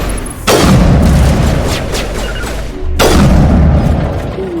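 Two loud, booming sniper rifle shots from the video game Mass Effect 1 Legendary Edition, each a sharp crack that tails off in a long rumbling decay, the second about two and a half seconds after the first, with no talking.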